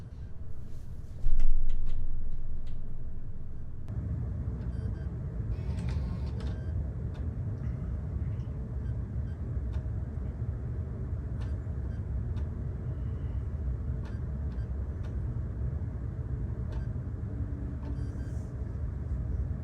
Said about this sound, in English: When a disc is inserted, the drive struggles and it makes these noises.